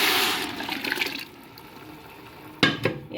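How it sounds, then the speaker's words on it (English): Meat stock is poured into a pot of parboiled rice, making a close, rushing splash that eases off and is followed by a few sharp knocks against the pot, with no talking. "So in a separate pot, I pour the rice, parboiled rice, and then add my meat stock first."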